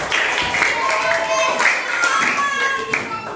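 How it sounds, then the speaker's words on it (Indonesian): Classroom audience applauding during a school lesson, a dense burst of hand clapping that carries steadily through the whole moment at close range, with some voices mixed in underneath. "Tepuk tangan, kasih tepuk tangan lagi."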